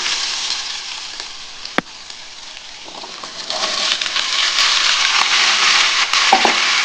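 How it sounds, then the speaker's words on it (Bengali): Potatoes frying in hot mustard oil in a wok, a steady bright sizzle that swells louder partway through, with a sharp clack near the start and small crackles over the hiss. "তেলটা গরম হয়ে গেছে, আমি কিন্তু আলুগুলো প্রথমে ভেজে নিচ্ছি।"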